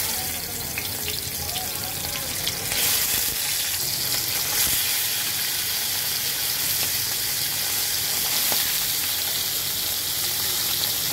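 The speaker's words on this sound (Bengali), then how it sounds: "দেখো মাছটা ভাজার জন্য আমি চুলায় তেল গরম করতে বসিয়ে দিয়েছিলাম।" Khalisha fish fry in hot oil on a stove with a loud, continuous sizzle and crackle that swells as the fish goes in and holds for the whole stretch.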